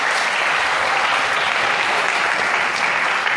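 Steady, dense audience applause fills a speech gathering on Allama Iqbal's poetry, loud and continuous without pause from start to finish.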